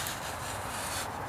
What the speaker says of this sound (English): now I've got to lightly score that with my sheetrock knife